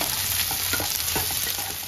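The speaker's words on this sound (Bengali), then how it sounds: "টমেটো কুচি দিয়ে দিলাম। এবার সবকিছু দিয়ে হালকা করে ভেজে নেব।" Chopped tomato with red chilli and spices fry lightly in a pan, a soft, even sizzle under a few scraping stirs and small clicks, close by and moderately quiet.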